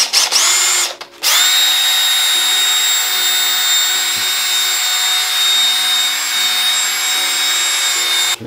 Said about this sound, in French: J'ai différentes petites brosses pour mettre à la perceuse